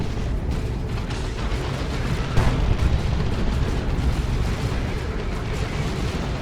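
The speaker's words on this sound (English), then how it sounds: "That's a big plasma cannon shot though." A plasma cannon shot explodes in the real-time strategy game Dawn of War 2: Retribution, a single heavy blast standing out from a dense, continuous roar of battle rumble and gunfire.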